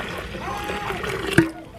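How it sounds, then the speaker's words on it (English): Homemade southern sweet tea is poured into a tea pitcher, a soft, steady watery splashing beneath a person talking, with a brief louder splash near the end. "You're going to take a tea pitcher and you're going to pour up all your tea."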